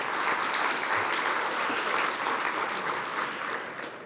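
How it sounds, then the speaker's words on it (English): An audience applauds a congressman at a West Texas political event, steady full clapping from a crowd throughout, tapering slightly at the end, with no talk over it. "let's give him a round of applause"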